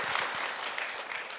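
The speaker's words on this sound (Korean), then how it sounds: "감사하면서 여러분 박수 한번 하시겠습니다" Brief burst of congregation applause during a Wednesday worship service at a Korean church, dense and steady clapping from many people throughout the short moment.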